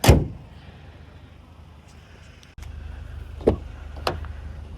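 The hood of a 2025 Kia K5 GT, held by struts rather than a prop rod, shuts with one sharp thud, followed by faint clicks and handling sounds nearby.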